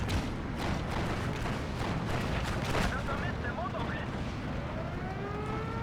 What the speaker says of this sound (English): I'm going to try and hit this Su-85 with my Me-410. He's got light bombs, so we'll see what it does.